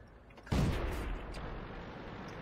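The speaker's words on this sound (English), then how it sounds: "Some shots." A single booming tank cannon shot in World of Tanks, sharp onset followed by a long rumbling decay that lingers under the ambient battle noise.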